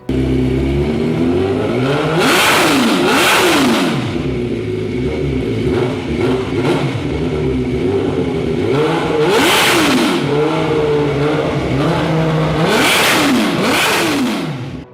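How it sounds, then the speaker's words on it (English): An MV Agusta sport motorcycle engine revs hard and loud, rising and falling in several sweeping pulls over fifteen seconds, with whirring mechanical tone and clattering between the revs. "when your bike sounds this good, it's worth it."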